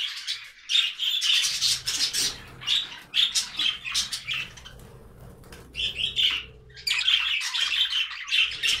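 Budgerigars in a breeding cage squawk and chirp almost continuously in bright, overlapping bursts, loud and close, with brief pauses and faint wing flutters.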